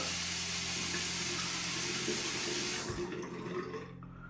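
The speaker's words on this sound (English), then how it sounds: "I'm going to heat up the razor under the hot water." A steady rush of hot water pours from a tap, loud and close, then thins out and fades as the flow is turned down.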